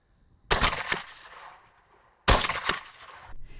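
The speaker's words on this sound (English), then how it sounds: "Erickson loads up the shotgun with buckshot." Two loud shotgun blasts of buckshot fired at a target 75 yards away, a couple of seconds apart, each a sharp crack with a short trailing echo over a quiet outdoor background.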